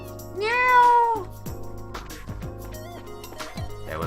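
A person imitates a cat's meow in a single drawn-out, rising and falling vocal call near the start, followed by quieter game music and ambient tones.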